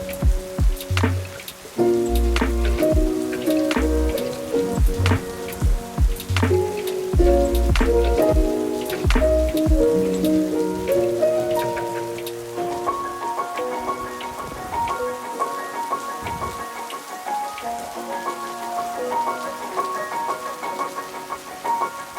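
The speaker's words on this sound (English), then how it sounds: "It rained as if I was going through the wormhole in Interstellar." Heavy rain falls in the Scottish mountains, a constant patter of drops striking surfaces nearby, dense and steady before easing slightly toward the end.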